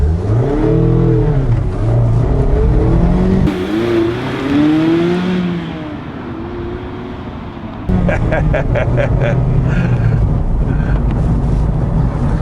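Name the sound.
Mazda Miata MX-5 RF accelerating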